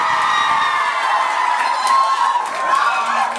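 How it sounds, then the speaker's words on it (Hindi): A crowd of students at an Independence Day celebration cheers and shouts, with high whoops and a continuous roar of voices held throughout. "आज आपको पूरा मौका दिया जा रहा है भरपूर शोर और तालियों का"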